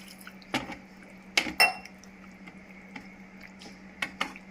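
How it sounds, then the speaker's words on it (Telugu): Jackfruit biryani being stirred in a pot after a glass of water is added: a few sharp clinks and scrapes of a spoon against metal with soft wet mixing sounds between them, close by and without talk. "దీంట్లో ఇప్పుడు ఒక గ్లాసు నీళ్ళు పోతాము బాగా కలుపు"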